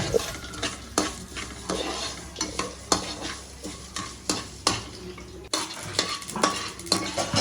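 Ingredients for tomato chutney sizzle in a pan while a spoon scrapes and stirs in a steady rhythm, each stroke a clear scrape over the constant frying hiss, close and moderately loud.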